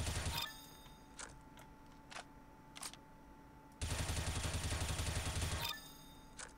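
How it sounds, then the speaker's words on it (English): Rifle fire in Counter-Strike: Global Offensive, a few single shots followed by a sustained fully automatic burst of rapid, evenly spaced cracks, then a couple more shots, with no talking. "if you put your crosshair on the target and then just start shooting, your bullets are going to go all over the place"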